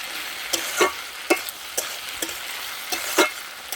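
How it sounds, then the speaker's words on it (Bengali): Spices frying in a pan as they are stirred, a steady sizzle broken by several sharp scraping stir strokes at irregular intervals, close and moderately loud with no talking. "একটু ভালো করে ভেজে নিই"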